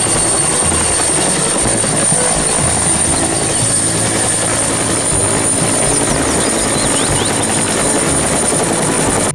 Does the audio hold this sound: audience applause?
no